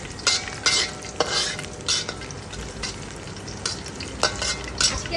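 Chopped garlic and ginger frying in oil in a Chinese wok for chilli chicken: a constant crackling sizzle broken by repeated sharp scrapes and clatters of a spatula stirring, close and fairly loud.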